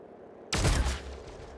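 Gunfire from a squad weapon in XCOM: Chimera Squad, a sharp loud burst of shots erupting suddenly after a quiet moment and trailing off over about a second.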